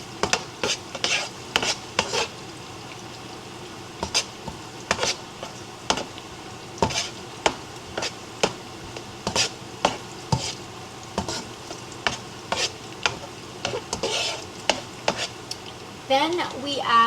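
Garlic frying in a pan for dim sum steamed rice, stirred with a utensil: a steady sizzle under repeated sharp scraping clicks at an uneven rhythm, close and moderately loud, with no talking.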